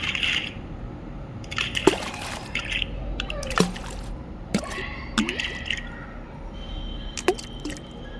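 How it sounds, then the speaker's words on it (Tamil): Small stones drop one after another into a water pot, a series of irregular wet plops and splashy clicks spread over several seconds, close and moderately quiet, for a thirsty crow story. "காகம் கற்களை போட்டது."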